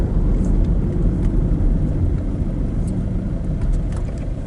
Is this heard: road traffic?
yes